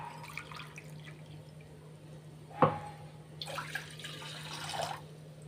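Water is poured into a pressure cooker set on a lit stove to cook semolina: a single sharp clink, then a soft splashing pour, faint and close in a quiet kitchen.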